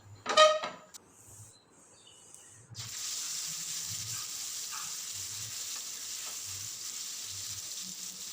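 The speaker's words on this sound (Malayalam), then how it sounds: "എണ്ണയൊക്കെ നല്ലോണം ചൂടായിട്ടുണ്ട് ഇനി നമുക്ക് മീനാക്കി ഇട്ട് കൊടുക്കാം" Masala-coated fish slides into hot oil, starting with a sharp clatter and scrape, then settling into a steady, fairly loud sizzle and bubbling fry with occasional soft knocks of the pan, and no voices.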